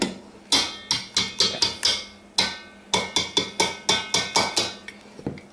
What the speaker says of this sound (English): just tap out your whisk